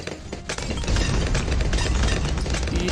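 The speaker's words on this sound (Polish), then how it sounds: "Chodzi głównie o wybuchy." Dense, loud barrage of overlapping explosions from an alchemist tower in Bloons TD6, booming and popping in rapid succession with no pauses across the whole stretch.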